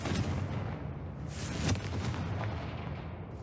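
In the Hogwarts Legacy video game, a Confringo explosion spell goes off with a deep rumbling boom and a sharp crack partway through, then a lingering noisy roar. It is moderately quiet overall.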